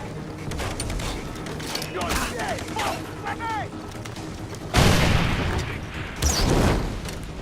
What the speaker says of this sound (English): Stealth explosion.